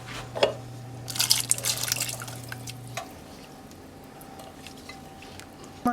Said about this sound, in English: I drain the water off of the cans of beans and the Rotel